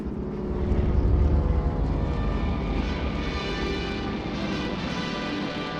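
Air Transport Command propeller transport plane taking off from an airfield in India, a loud, steady multi-engine roar with droning tones that swells then holds as the aircraft runs up and climbs.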